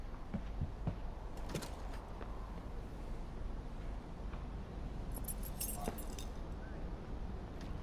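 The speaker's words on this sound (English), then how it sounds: "He just threw his keys on top of the roof." Keys jangle as they are tossed onto a car roof in the game Life Is Strange, a bright metallic rattle in short bursts near the start and again later over a quiet background.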